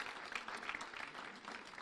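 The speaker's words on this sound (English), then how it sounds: "Carol Kurth, you need another round of applause because you didn't get introduced" Audience applause at a city beautification awards ceremony in Farmington Hills: a short, steady burst of indoor clapping from a moderate crowd, fairly faint, with no talking over it.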